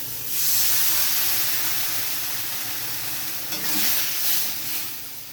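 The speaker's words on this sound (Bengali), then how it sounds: "এবার আমি দিয়ে দিচ্ছি এক বাটি জল" Water from a bowl poured into a hot pan of pumpkin with turmeric sets off a loud, steady sizzling hiss that swells and eases for several seconds, heard close with no speech.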